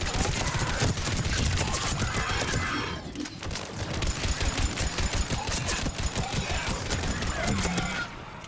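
Dense, rapid gunfire rattles almost nonstop through a Mass Effect 3 shooting gallery, with a brief lull near the three-second mark before the shots resume loud and close, with voices mixed in.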